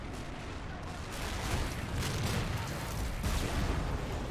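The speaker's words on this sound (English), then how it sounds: "Nice, good explosions." Battlefield explosions and artillery from Men of War, a World War II tank strategy game, at Seelow Heights, 1945, with German heavy tanks being destroyed, rumble continuously as a dense, loud wash of blasts and gunfire with no clear gaps.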